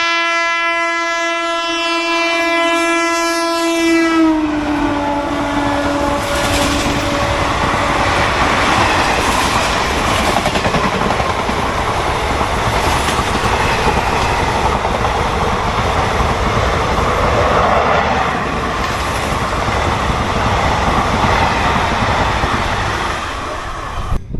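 A loud horn blares, then the Kanchenjunga Express diesel train roars past close by with heavy rumbling and rhythmic wheel clatter that continues steadily.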